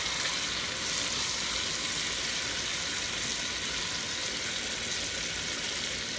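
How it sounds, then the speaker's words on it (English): Chicken leg quarters sautéing in a pan with bell peppers, onions and tomatoes, a steady, even sizzle and crackle of hot fat throughout, close and constant with no talk. "So the chicken is cooking."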